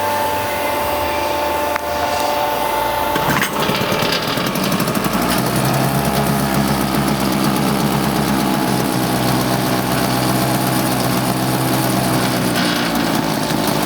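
A Japanese Tohatsu outboard boat motor from 2007 starts with a sharp kick after a brief low rumble, then idles loud and close with a steady buzzing drone.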